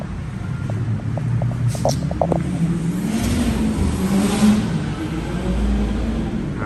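A 2014 Kawasaki Z800 motorcycle fitted with an SC exhaust revs steadily nearby, its engine drone rising and swelling through a sustained, slightly fluctuating roar.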